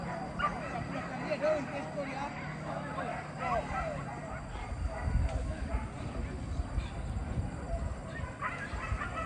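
A hunting dog barks and yips at a distance during a wild boar hunt while people talk over it outdoors, the barking repeating irregularly under the voices.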